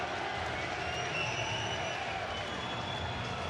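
An electric arena crowd at SSE Arena, Wembley in London roars steadily as a fighter enters for a Bellator 200 welterweight bout, a continuous wash of cheering and noise with no break.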